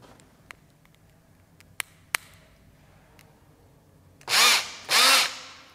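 An overloaded electric screwdriver runs in two loud, strained bursts of about half a second each. Several faint clicks and taps come before them in a quiet room.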